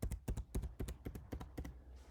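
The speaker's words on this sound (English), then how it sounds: "I can use my actual laptop keyboard to type that in" Typing on a laptop keyboard, a brisk run of about a dozen close, crisp key clacks in uneven bursts, then a brief trailing hiss, with no one speaking.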